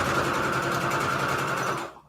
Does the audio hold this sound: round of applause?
no